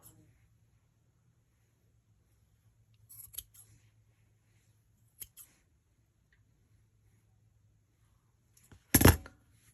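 Scissors snip through yarn loops on a handmade Christmas gnome ornament, a few faint cuts early on followed by one louder, sharper close snip near the end, with no talking.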